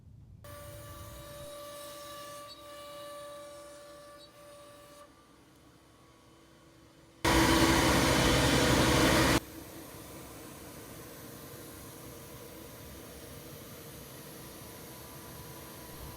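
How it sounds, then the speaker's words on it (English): A CNC router cuts all the way through an HDF door panel with a 3/8-inch compression bit, a steady machine drone with a short, much louder rushing burst in the middle before it settles back to a constant hum. "Now the CNC is coming back and cutting all the way through with the 3/8" compression bit."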